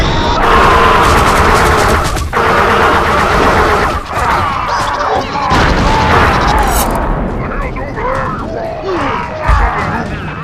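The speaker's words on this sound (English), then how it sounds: "You notice I'm being shot at from above as well." Gunfire rains down from above in the video game Oddworld: Stranger's Wrath, a loud, continuous barrage of shots and booms that runs for about ten seconds amid the chaos of combat.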